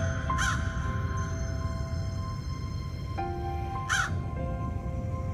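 A crow caws twice, a few seconds apart, each a harsh, close call over a steady outdoor background hum.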